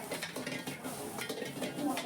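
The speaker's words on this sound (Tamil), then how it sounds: "இப்போ வந்து நூடுல்ஸ் பண்ணுறாங்க. நூடுல்ஸ்லேயும் ஃப்ரை நூடுல்ஸ் பண்ணுறாங்க." Fried noodles are stir-fried in a pan at a busy tiffin centre on Mount Road, with metal utensils scraping and clinking against the pan amid soft sizzling and kitchen clatter.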